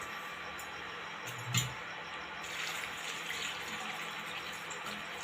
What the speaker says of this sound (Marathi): साधारण 1 ग्लासभर पाणी ओतले यामध्ये.